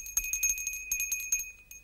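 A small bell rings in a quick, irregular series of bright metallic strikes with a clear, sustained high tone, close and unaccompanied by any voice.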